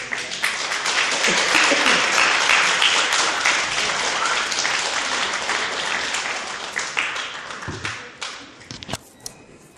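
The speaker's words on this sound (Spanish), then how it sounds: "Pero antes denle un aplauso a Cristo, Dios es bueno." Church congregation applauding, a loud crowd of hands that swells early, holds for several seconds, then thins to scattered individual claps before stopping.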